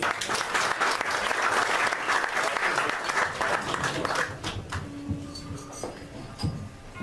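Warm audience applause at a Turkish poetry reading event in Hamamönü, a steady dense clatter of many hands that tapers off toward the end as a faint tone and room noise emerge.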